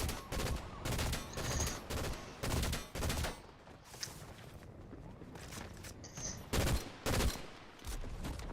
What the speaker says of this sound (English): they're still shooting at me